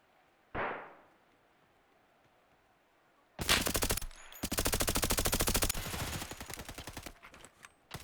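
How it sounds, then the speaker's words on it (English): AS Val rifle fire in a competitive shooter video game match: one sharp shot, a pause, then long rapid automatic bursts with a short break between them, loud and close, with a few trailing shots at the end. "Clutch needs to be careful with this AS Val."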